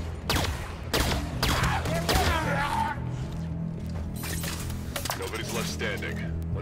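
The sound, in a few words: enemy gunfire in video game Halo 5: Guardians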